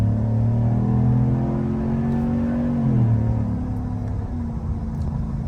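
Cabin engine sound from a 2025 Chevrolet Silverado 1500 High Country during an acceleration run: a steady, loud rumble that climbs in pitch, drops at a gear shift about midway, then carries on more quietly.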